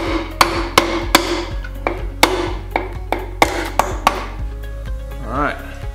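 Sharp hammer taps, from the wooden end of a hammer, drive a compression sleeve into a 6.5-litre diesel engine block, striking repeatedly at an uneven rhythm, close by and loud, with a low hum underneath and a brief voice near the end.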